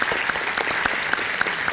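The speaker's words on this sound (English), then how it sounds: "Give him a round of applause." Clapping from a modest group at a breakfast meeting, a short run of distinct overlapping hand claps at close range with no talking.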